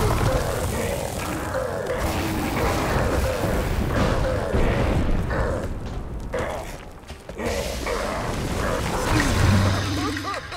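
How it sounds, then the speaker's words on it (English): Arcane spell explosions from the video game Magicka 2 boom in dense, cluttered bursts amid rumbling magical effects and grunts, with a brief dip before the noise swells again. "That arcane explosion is bad"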